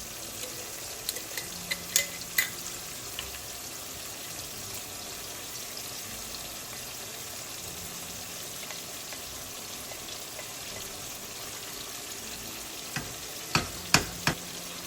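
Beef tongue sizzles steadily as it is sautéed in a pan for a Bengali bhuna dish. A constant frying hiss runs throughout, broken by occasional scraping clicks from stirring, and no one talks.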